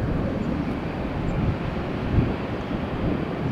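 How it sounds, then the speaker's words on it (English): A Delta Boeing 737, fuelled for a long flight from Tampa to Los Angeles, makes a long takeoff roll; a steady, broad jet roar rumbles continuously at close range, buffeted by wind noise, with no voices. "Long takeoff roll."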